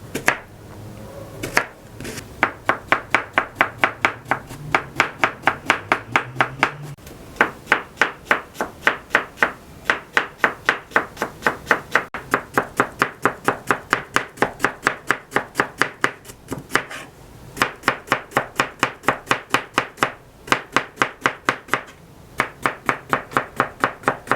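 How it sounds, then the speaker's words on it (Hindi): A large onion chopped with a knife on a board, giving long runs of fast, crisp, evenly spaced chops broken by brief pauses, loud and close. "हमने जो 1 अदद प्याज लिया है बड़े साइज़ का, उसको भी काट लेते हैं इस तरीके से।"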